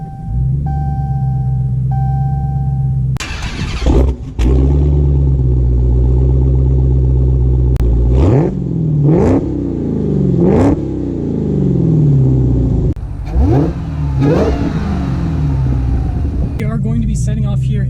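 A 2019 Dodge Challenger SRT Hellcat Redeye starts up, its engine rumbling loudly and close, then revs several times in bursts while pulling away on a short drive.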